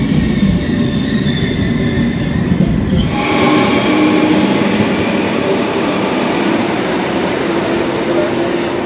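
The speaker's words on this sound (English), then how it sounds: "every second train stops there." A train passes through Amsterdam Sloterdijk station with a loud, continuous rumble and rolling clatter that shifts to a smoother, steadier roar partway through.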